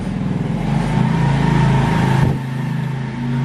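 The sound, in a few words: motorcycle passing by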